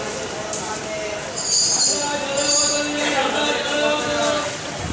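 A passenger train runs steadily with a continuous rumble and some faint high squeals, heard from inside at moderate level, while someone talks over it.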